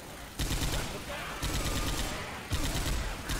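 Gunfire in the video game Left 4 Dead 2, loud dense automatic bursts in three sustained stretches, with the voice of a player mixed in under the shooting.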